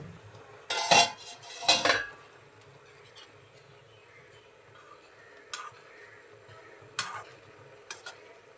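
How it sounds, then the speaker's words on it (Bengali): Metal lid lifted off a pot of raw mango rasgullas simmering in sugar syrup, giving two sharp clanks close by, followed by a few lighter clinks of metal over a low simmering hiss. "এবারে আমরা ঢাকাটা সরিয়ে দেখে নেব।"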